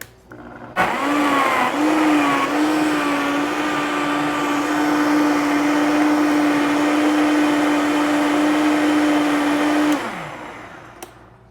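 Vacuum blender blending watermelon chunks, a loud steady motor whine that starts abruptly, holds an even pitch for about nine seconds, then winds down and stops.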